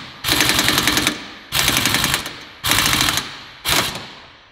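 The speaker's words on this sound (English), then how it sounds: "this is where you need an impact gun, because that ball joint will just free spin" Pneumatic impact gun spinning off a ball joint nut on a Nissan GTR's suspension, four loud close rattling bursts of about a second each with short pauses between, no talking.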